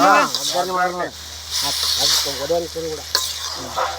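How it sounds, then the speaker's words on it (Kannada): Tempering sizzles in hot oil for hunagadabu, a North Karnataka pundi palle dish, giving a steady close hiss and frying crackle beneath voices talking over it. "ಉಣ್ಗಡ ಒಗ್ಗರಣೆ ಮಾಡ್ದನೇನು"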